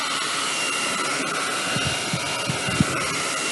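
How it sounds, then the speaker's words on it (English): A blow dryer on low heat dries a metal tray, giving a steady, loud, close airy whoosh with a constant hum. Faint taps and bumps sound near the end as the tray is handled. "So I'm going to use my handy dandy blow dryer and give a low heat"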